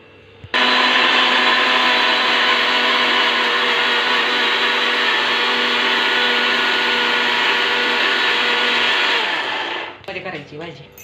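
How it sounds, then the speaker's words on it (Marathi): An electric mixer grinder whirs loudly and steadily, grinding coriander, ginger and garlic with a little water, starting abruptly and running for about nine seconds before winding down. "कोथिंबीर, आलं, लसूण आता वाटून घ्यायची"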